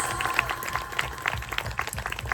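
A crowd at an outdoor rally claps together in a moderate, fairly even patter of hands, with individual claps standing out from a slightly distant audience.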